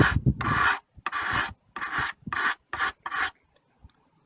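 A steel cabinet scraper shaves thin curls from a wooden surface in a run of short, rhythmic scraping strokes, close and crisp, with brief gaps between each pass and the strokes growing slightly shorter toward the end.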